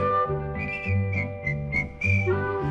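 Someone whistles a melody from Snow White and the Seven Dwarfs, bright sustained notes over a bouncy orchestral accompaniment, with no voices.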